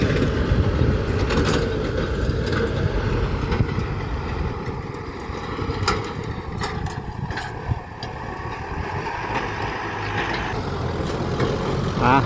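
An old Soviet-made tractor runs on a Lao farm field, its engine chugging steadily with mechanical clatter and occasional sharp knocks, moderately close and continuous.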